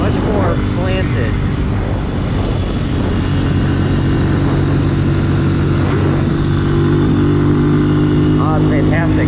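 Benelli TNT 135 motorcycle ridden through a bumpy corner: a loud, continuous buzzing engine drone with rising and falling revs and wind rush, heard close from the rider's position.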